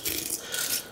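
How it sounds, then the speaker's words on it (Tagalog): A thin, rasping scrape repeats in quick uneven strokes, fairly close and quiet, as a kitchen knife grates along a large fish's bone. "Yun yung tunog ng buto na sinusundan ng kutsilyo."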